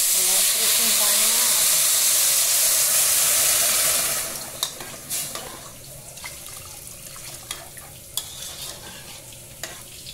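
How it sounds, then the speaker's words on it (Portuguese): Rice sizzles and fries in a home kitchen pan, a loud broadband hiss for about four seconds that then drops to a quieter crackle with scattered clinks and stirring sounds. "já fritei bem o meu arrozinho aqui"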